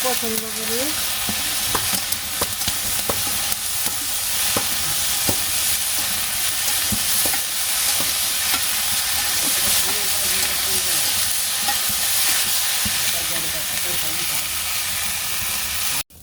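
Steady, loud sizzling of vegetables frying in a pan with a little salt, with repeated scraping and stirring clicks throughout and a faint voice near the start.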